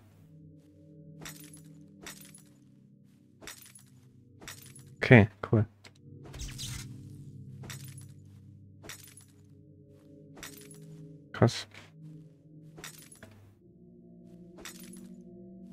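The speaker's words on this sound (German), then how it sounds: "einfach aus Knochen so ein Glas-Sound entsteht" Glass-like shattering as bones break in the video game Dwarven Realms, two loud crashing bursts close together midway and another later, over steady game music and sparse clicks, with someone speaking briefly.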